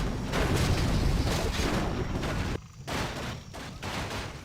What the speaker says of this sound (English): It's once again the cannon towers.